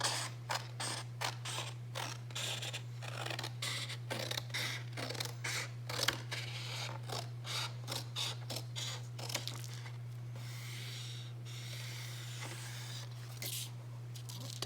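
Scissors snip through a photo in a quick run of crisp, closely spaced cuts, then slower rustling and handling of the paper, all over a steady low electrical hum.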